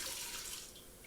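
Two cups of water being poured for a turkey brine, a faint, steady trickling splash lasting about a second, quiet and even throughout.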